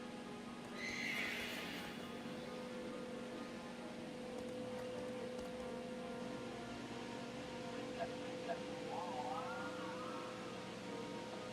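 An ice horse in a Pokémon video game gives a loud, close whinny near the start, then only a steady electronic game hum remains with a faint rising tone later.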